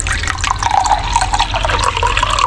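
Drinking water pours steadily into a container, a loud, close, continuous splashing stream with rising fill tone and no speech.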